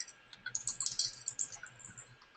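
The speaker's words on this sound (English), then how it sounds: "Yeah, so I hear people typing" People typing on computer keyboards during an online talk, a quick, irregular burst of soft key clicks, faint and close, with short pauses between runs.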